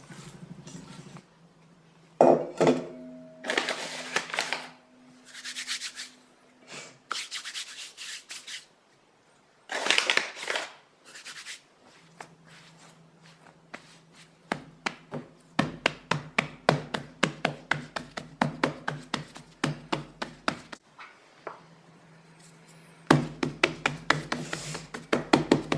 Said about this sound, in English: flour a work surface, flour on your hands, and shape your dough into a flat round